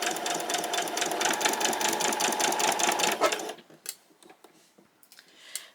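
A sewing machine stitches fabric for a pleated top in a steady, rapid mechanical rhythm for about three and a half seconds, then stops, leaving faint handling clicks and rustles.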